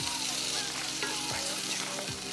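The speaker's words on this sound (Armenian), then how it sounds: "Եվ շատ քիչ ենք տապակում։" Garlic fries in a pan with a steady, close sizzle and crackle, and a few light stirring scrapes sound through it.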